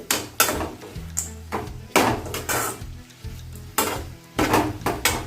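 A spoon scrapes and stirs capsicum masala curry in a pan, with steady sizzling under repeated clanks against the metal in an irregular rhythm, close and fairly loud.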